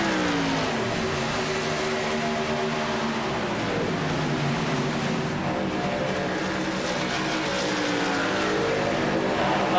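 A race car engine in the VSpeed Contender Series sim race, heard loud and close as the driver lifts off on track, its steady drone sliding down in pitch and then climbing again, with no talking.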